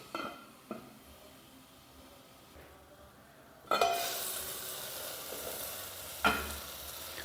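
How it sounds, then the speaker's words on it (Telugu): Onions cooking in hot oil in a covered pan while making rasam give a steady low sizzle, with a sharp clink at about 0.7 seconds and a louder stir or lid knock near 3.8 seconds that leaves a brighter frying hiss afterward. "మూత పెట్టుకొని ఒక 2 నిమిషాలు ఈ ఉల్లిపాయలు అనేది మనం ఆయిల్లో మగ్గించుకుందాం"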